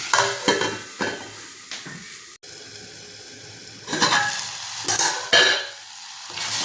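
Tomatoes sautéing for paruppu sambar, a loud close sizzle with bursts of stirring and scraping in the pan, some strokes sharp, some softer, then quieter frying between them and no voices.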